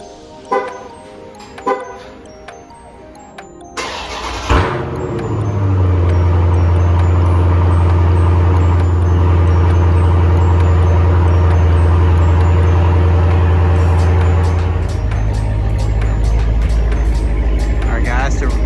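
A Dodge Challenger car engine cold start: a few clicks and knocks, then the starter catches and the engine bursts into a loud, steady deep idle that holds for over ten seconds before the pitch shifts near the end. No talking is evident.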